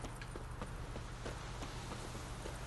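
Rapid rhythmic hoofbeats of a galloping horse in The Witcher 3: Wild Hunt, a quick regular clip-clop running steadily under a low engine-like game hum, moderately close and without talk.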